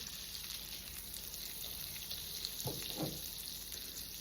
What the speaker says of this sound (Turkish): Elektrikli ocağımda mis gibi tereyağımı şöyle erittim